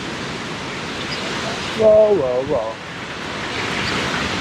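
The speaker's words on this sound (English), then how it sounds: "An amazing waterfall." Düden Waterfalls in Antalya, Turkey, give off a steady, full rushing roar of falling water. Midway through, a man briefly exclaims over the noise of the falls.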